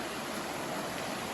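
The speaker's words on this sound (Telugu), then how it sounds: "వాటర్ ఫాల్స్ దగ్గరికి అయితే వచ్చేస్తామే" Water rushes steadily over the rocks of Panasa waterfalls near Madanapalli, a constant broadband roar with no break across the short stretch.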